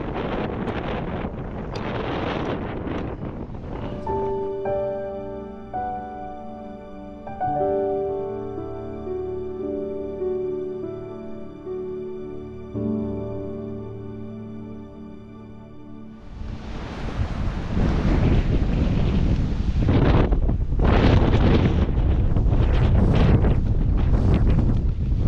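Strong 25+ mph wind buffets the microphone in loud rumbling gusts, easing while a tonal hum plays, then roaring back even harder near the end.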